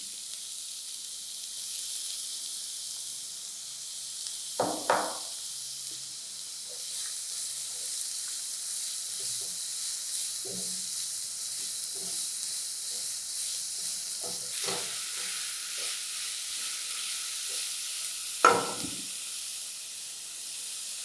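Cumin and two onions fry in a pan, making a soft, steady sizzling hiss with a few sharp clatters of a spoon or stirring in between.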